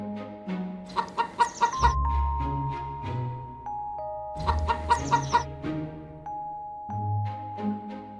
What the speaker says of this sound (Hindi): एक काली मुर्गी कुकड़ुकू करती हुई बाहर निकल गई